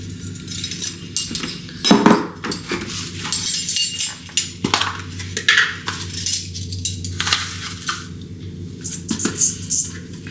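A metal measuring spoon scoops salt from a container while making Rob Roy cookies, producing irregular close clinks, scrapes and rattles of utensils and dishes over about ten seconds.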